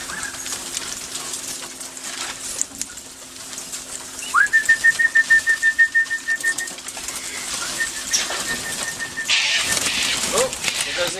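Birds at a feeding spot give an alarm call, a rapid, evenly pulsed run of loud whistled notes close by, followed by a fainter sustained whistle over background rustle.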